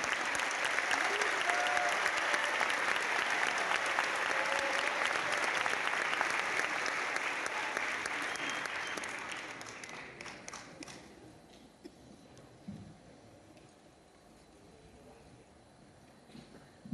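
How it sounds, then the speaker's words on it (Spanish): Audience applause opening a Chilean traditions gala, a dense loud wash of clapping that holds steady for about nine seconds, then fades to scattered faint claps and quiet room sound. "podemos empezar a aplaudir para iniciar esta gala del Bueno y Can"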